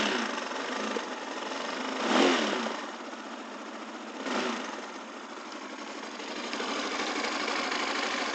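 A 250cc Bashan Storm motorcycle engine runs on choke in cool weather, a steady close idle with two brief swells in revs, no talking over it.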